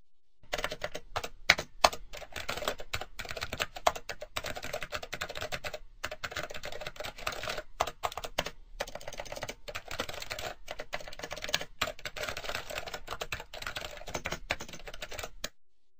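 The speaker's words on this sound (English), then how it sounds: "I will also type a password." Rapid typing on a computer keyboard while entering a Windows XP Media Center Edition administrator password, steady close clicking with brief pauses, no voices.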